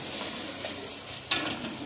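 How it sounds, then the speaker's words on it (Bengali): Onions frying in a pan while cooking mutton, a steady soft sizzle with a brief louder scrape or clink near the end, no voices. "আর এদিকে আমার পেঁয়াজ ভাজাটা কিন্তু চলছে"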